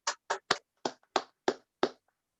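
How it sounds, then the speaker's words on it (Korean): Seven sharp, separate hand claps at a maritime literature lecture, evenly spaced and close, with silence between them rather than a full ovation. "박수 부탁드리겠습니다"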